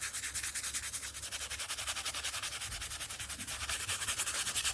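A sanding pad works steadily over a polymer clay bowl, a continuous rhythmic rasping rub with regular back-and-forth strokes, close and fairly loud with no talk.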